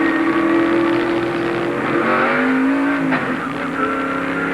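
A race car engine at a 1997 road-course race at Watkins Glen revs steadily after being restarted from a stall, a loud continuous drone with shifting pitch and no talk.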